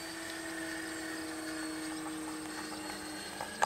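Radio-controlled model aircraft fly overhead at a 2012 RC fly-in, giving off a steady, sustained engine whine and drone with tonal harmonics that hold constant throughout, fairly loud and with no talking.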